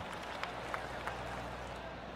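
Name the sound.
golf clap from crowd in video game PGA Tour 2K23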